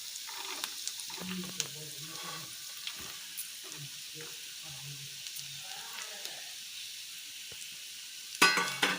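Carrots and beans with onion fry in a pan for wheat noodles, giving a soft, steady sizzle with occasional stirring scrapes, faint and close, ending with a brief louder clatter.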